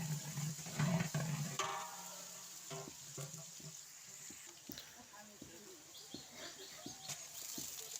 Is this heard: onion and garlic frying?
yes